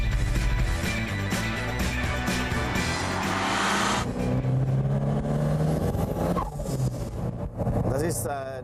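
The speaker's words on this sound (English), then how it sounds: "The whistling sound the car makes while changing gears is typical of the turbocharged Cosworth." Turbocharged Ford Cosworth driving under throttle, with a whistling pop-off valve release as gears change, a loud engine note that rises and drops, under someone talking.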